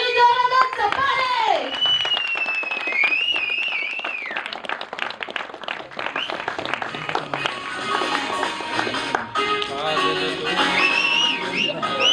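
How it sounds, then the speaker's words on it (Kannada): Loud applause and clapping from an audience at an award and felicitation ceremony during a theatre premiere event, sustained throughout with voices and whistles mixed in. "ಬನ್ನಿ ಜೋರಾದ ಚಪ್ಪಾಳೆ."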